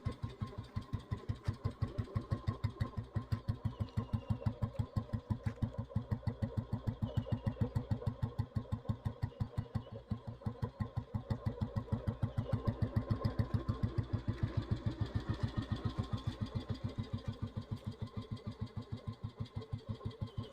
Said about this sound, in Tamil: வண்டி பீட் சவுண்ட் கேளுங்க.